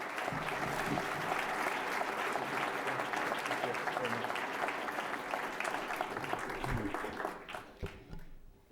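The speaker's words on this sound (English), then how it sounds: "One round of applause, please." Sustained audience applause at an evening lecture, a full, even wash of clapping that holds steady, then thins out and fades near the end.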